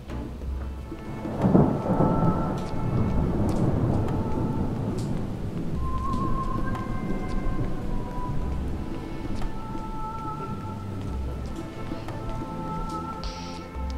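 Thunder rumbles over steady rain in the zombie survival game Project Zomboid, a loud rolling crash early on fading into a continuous downpour with faint game tones, no voices.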